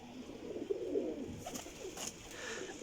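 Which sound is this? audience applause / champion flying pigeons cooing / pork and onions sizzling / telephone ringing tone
champion flying pigeons cooing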